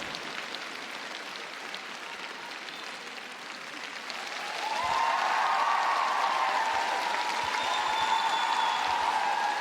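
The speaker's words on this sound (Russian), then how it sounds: "абсолютно заслуженные овации зала" Ovation from the audience in an ice arena hall at a figure-skating show-program tournament: steady massed clapping that swells noticeably louder and fuller partway through, with faint cheering and no speech.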